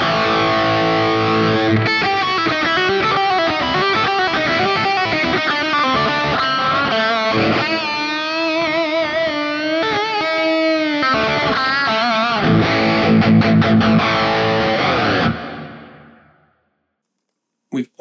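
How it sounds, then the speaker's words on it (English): Electric guitar through the Blue Cat Audio Axiom 2 plugin with a Marshall-type amp preset, gate, phaser and arena reverb, playing a loud, driven riff of chords and fast lead runs that stops abruptly and then fades. "my rig now is obviously a Marshall style amp with a gate, a phaser, and an arena reverb"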